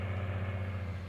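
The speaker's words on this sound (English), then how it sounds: "This tractor's really doing work to pull this cultivator through." Tractor engine in Farming Simulator 19 straining to pull a cultivator, a steady low hum with a faintly pulsing rhythm, moderately loud and brief.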